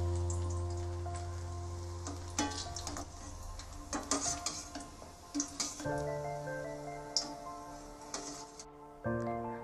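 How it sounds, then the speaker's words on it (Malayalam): Cashews dropped into hot oil for dum biryani garnish, sizzling and crackling in the pan with scattered pops and bubbling spurts over a low steady hum, moderately close with no voices. "ഓയിൽ ചൂടായിട്ടുണ്ട്. ഇനി ഇതിലേക്ക് കുറച്ച് കാഷ്യൂസ് ഇട്ട് കൊടുക്കുക."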